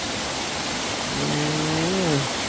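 A waterfall at Phiang Din in Loei province, Thailand, gives a steady, even broadband roar of falling water that runs through the whole stretch, with a faint tonal sound rising briefly in the middle.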